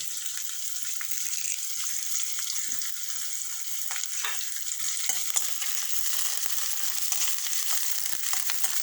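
Curry leaves frying in hot oil in a pan while cooking a sweet pumpkin curry, a steady loud sizzle and crackle with brief sharp pops and spatters throughout.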